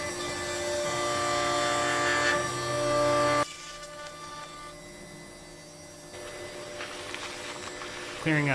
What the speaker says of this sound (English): Clearing up most of the waste with a vacuum